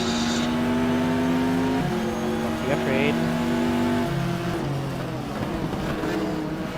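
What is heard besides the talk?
GT race cars driving in GTR 2 video game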